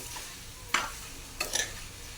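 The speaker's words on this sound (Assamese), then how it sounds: "যেতিয়ালৈকে মেল্ট হৈ নাযায়, তেতিয়ালৈকে মই এনেকৈ লৰাই থাকিম চামুচ এটা দি।" A spoon stirs a raw mango jelly mixture in a pan, two quick scraping strokes over a faint simmering hiss, quiet and close.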